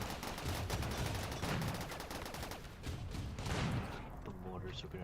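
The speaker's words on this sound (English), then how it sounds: "The mortars are gonna drive me insane." Video game battle with continuous heavy gunfire and explosive mortar-like blasts, dense and loud throughout with rolling booms underneath.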